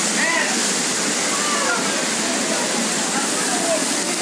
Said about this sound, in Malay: Air sungai telah meluap.